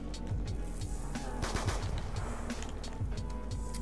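Pistol gunfire in Black Ops 2 Zombies on the Green Run map, a dense run of rapid shots crackling nearly continuously and loudly through the whole stretch.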